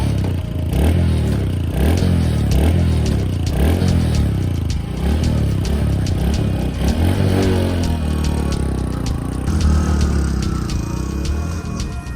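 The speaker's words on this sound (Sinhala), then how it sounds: "බයික් එක ගනින් බා" A motorbike engine revs loudly and close in a series of rising and falling pulls, with clattering and scraping mixed into the steady mechanical roar.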